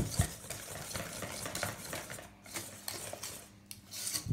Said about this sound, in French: On mélange bien, c'est bien homogène.